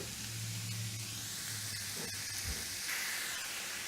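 Shallots and mushrooms sauté in a hot pan, giving a steady close hiss and sizzle that holds evenly throughout with no talk.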